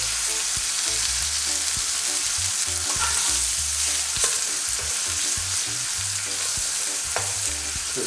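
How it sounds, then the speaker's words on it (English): Barracuda searing in a hot pan beside lobster, a continuous loud sizzle with small pops and crackles and no voices. "Just sear it for another 2 minutes."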